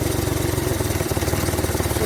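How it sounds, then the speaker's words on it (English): An old manual-transmission car engine idles low and uneven, close by and steady, with a rough pulsing rhythm and a brief dip near the middle as if about to stall. "here the engine is running low and about to shut down"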